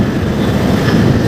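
An MRT train rolling past along EDSA near North Avenue, a steady broad rumble of wheels and carriages held at constant loudness throughout, with no voices.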